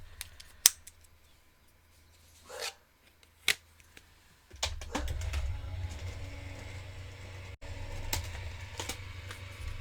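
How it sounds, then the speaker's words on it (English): Scissors snip through a piece of cardstock at a crafting table while making a Christmas card, giving a few sharp, close cuts and rasps followed by a steady low rubbing hum. "I'm gonna go ahead and snip a portion of that off and just cut this."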